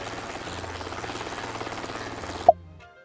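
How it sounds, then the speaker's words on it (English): Helicopter hovering close overhead during a septic tank pickup from a public toilet at Cathedral Cove, a steady loud rotor thrum with pulsing blade chop that cuts off abruptly near the end after a sharp clack. "my trip to Cathedral Cove coincided with the annual helicopter pickup of the public toilet septic tank"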